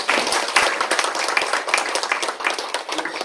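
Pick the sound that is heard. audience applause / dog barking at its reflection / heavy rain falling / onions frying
audience applause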